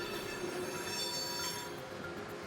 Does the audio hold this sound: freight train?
yes